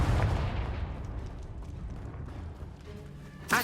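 A Confringo fire spell fired in Hogwarts Legacy on PS4: a steady, dense game rumble rolls on for a few seconds, then a sharp, loud blast bursts out right at the end.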